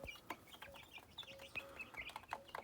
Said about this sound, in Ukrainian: І ось мої курчатка.